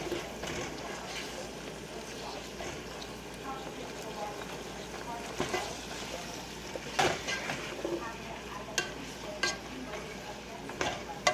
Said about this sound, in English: Stir it around. Stir it away. Stir it.